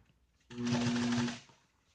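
An upholstery sewing machine stitching an automotive seat cover, running in one steady humming, rapidly ticking burst of just under a second, close and clear, with no talking.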